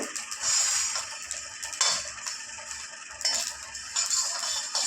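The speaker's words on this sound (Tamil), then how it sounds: "இந்த எள்ளு படப்படன்னு பொரியறது தெரியும் உங்களுக்கு." Light crackling and ticking sounds of sesame seeds popping while roasting in a pan, irregular small clicks with occasional metallic clinks, close and fairly quiet.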